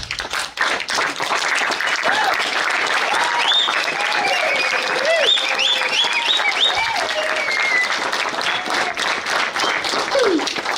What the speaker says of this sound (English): Let's stand up and clap for yourself.